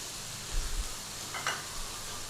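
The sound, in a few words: frying curry base with mixed powder in pan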